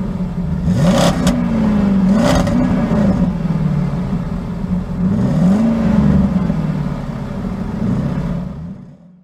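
A Maserati GranTurismo engine revs loudly and close, rising and falling in several throttle blips over a steady rumbling idle before the sound fades out at the end.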